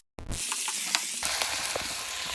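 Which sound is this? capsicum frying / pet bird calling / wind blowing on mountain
capsicum frying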